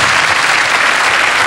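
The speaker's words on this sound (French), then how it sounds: "Je voudrais que vous l'applaudissiez." A studio audience applauds during a French TV special evening. The dense, loud clapping forms a continuous wash from start to finish.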